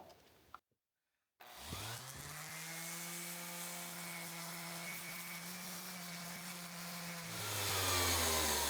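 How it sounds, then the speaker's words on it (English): A random orbit sander fitted with Diablo sandpaper runs against cast iron, starting up after a brief silence into a loud steady whining drone with grinding texture, its pitch dropping near the end, no talking. "With the quality Diablo sandpaper random orbit sander."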